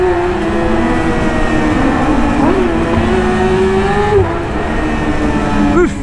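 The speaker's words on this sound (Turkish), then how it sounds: "Üf, bir patlatıyor egzoz var ya." A car engine revs hard at close range with its exhaust popping, a loud sustained drone that rises and dips in pitch, heard alone without talk.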